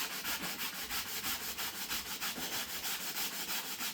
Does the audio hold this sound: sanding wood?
yes